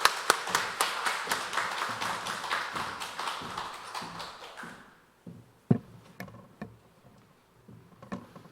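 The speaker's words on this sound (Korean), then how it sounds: "우리 박수로 우리 목사님을 모시도록 하겠습니다" Indoor clapping from a church congregation welcoming the pastor at an autumn special dawn prayer service: a dense burst of hand claps for about five seconds, then thinning to scattered, separate claps and taps.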